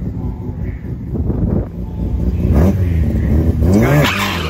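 A Mazda RX3 performs a burnout at The Bend Dragway, its engine revving up in rising surges over a few seconds with tire roar building, close and loud.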